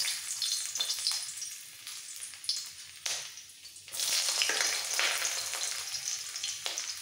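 Carrots dropped into hot refined oil in a wok for veg fried rice, a bright steady sizzle that surges loudly when they hit the oil, with a few stirring clatters, close and without talk.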